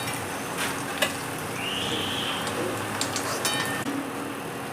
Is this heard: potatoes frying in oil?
yes